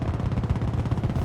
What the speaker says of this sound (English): How much does this SMG do?